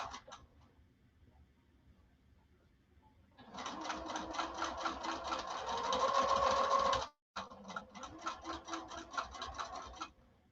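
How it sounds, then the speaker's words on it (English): A sewing machine runs long basting stitches at its longest stitch length down one side of the fabric, a steady rapid whirring burst that stops briefly and then resumes at close range. "Basting, remember I said, is at a 6 or the longest stitch length on your machine"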